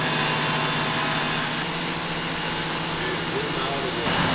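Two power washers run together, giving a continuous, even, whining drone with a broad hiss and no pauses.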